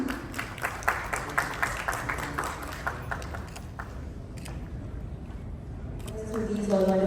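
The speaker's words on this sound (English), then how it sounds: "A big round of applause." Audience clapping at a conference, crisp scattered applause from a moderate crowd that thins out midway, then a faint voice speaking near the end.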